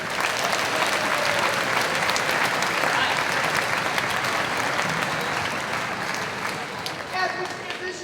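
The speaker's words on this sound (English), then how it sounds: "One more round of applause." An audience at an intermediate school spring band concert applauds after a drum line performance, dense, sustained clapping that stays loud and even throughout, easing slightly near the end.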